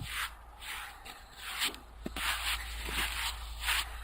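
Brisk, repeated brush strokes sweep across a horse's coat in quick soft swishes, about a dozen in four seconds, close and fairly quiet over a low background hum.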